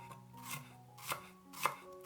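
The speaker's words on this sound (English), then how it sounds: "Mince 50 grams of shallots." Knife mincing shallots on a cutting board, three distinct quiet chops spaced about half a second apart, close and isolated with no speech.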